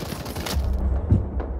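In the shooter video game Urban Heat, a quick burst of gunfire crackles in a short rapid volley, followed by a deeper thump and fading reverberant echoes.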